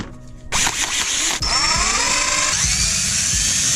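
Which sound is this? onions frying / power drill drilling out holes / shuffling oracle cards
power drill drilling out holes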